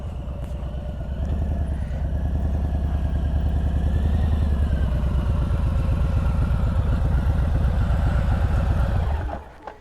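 A motor officer's motorcycle rides around an empty parking lot for practice, its engine running steadily and fairly loud for about eight seconds before cutting off abruptly near the end.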